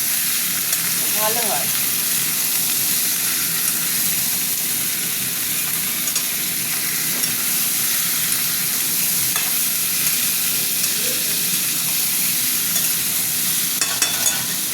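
Chicken meat frying in a pan for a spicy red chicken curry, a steady close sizzle with occasional stirring scrapes running throughout without pause.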